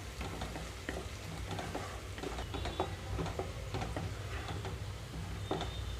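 Ginger garlic paste fries over a high flame, a steady close sizzle with repeated scraping and stirring clicks of a spoon against the pan, continuous and without talk.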